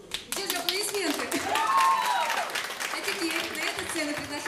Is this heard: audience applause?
yes